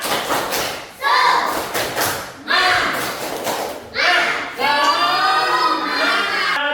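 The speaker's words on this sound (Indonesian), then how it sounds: "Yo, tepuk semangat." Group of children performing tepuk semangat, a rhythmic clapping chant, with bursts of claps and thumps alternating with chanted voices in a steady beat, loud and close in a classroom.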